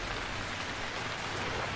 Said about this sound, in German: Und warum regnet es immer noch?